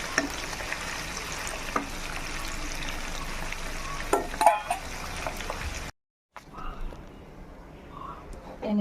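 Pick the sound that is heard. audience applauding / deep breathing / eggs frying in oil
eggs frying in oil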